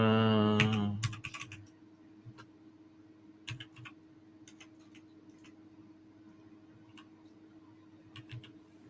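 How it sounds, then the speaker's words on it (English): A computer keyboard clicks in sparse, quiet bursts of keystrokes after a brief voice at the start, with a steady low hum underneath. "Let me type it"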